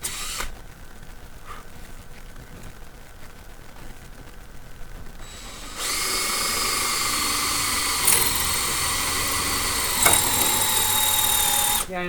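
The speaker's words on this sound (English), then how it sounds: "this is drilling actually a lot nicer than I was expecting" After a stretch of quiet room noise, a power drill whirs steadily as it bores a hole through a wooden sand casting frame, a continuous high whine with small surges, close by and with no talking.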